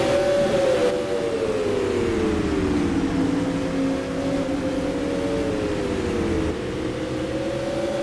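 Non-wing supermodified race cars on Oswego Speedway in the rFactor racing game drone at steady high revs, their engine pitch rising and falling as they sweep through the turns.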